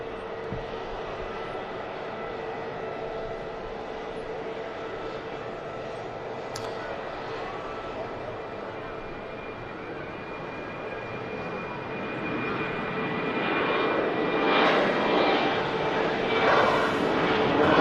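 An airliner's engines spooling up at Manchester Airport, a steady distant jet roar that swells louder toward the end, with a voice talking over it.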